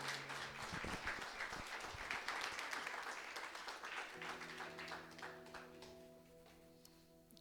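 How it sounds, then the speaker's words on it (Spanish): A church congregation applauds during a Spanish-language sermon. The dense clapping gradually thins and fades while sustained keyboard chords rise underneath. "Denle ese aplauso al Señor."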